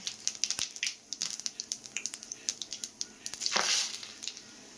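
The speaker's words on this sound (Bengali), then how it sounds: "ওই তেলে দিয়ে দেবো এবার গোটা জিরে, আর দিয়ে দেবো তেজপাতা" Whole cumin seeds and bay leaves crackle in hot oil left from frying a fish head, giving a steady run of sharp close pops. A louder hissing swell rises near the end, and no voices are heard.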